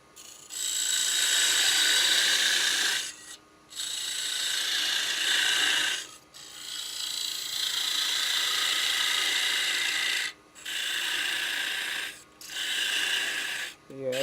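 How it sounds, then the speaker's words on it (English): A piece being cut off during tree making with a carbide tool, long harsh rasping strokes separated by brief pauses, close and loud with no voices. "I'm just cutting this off."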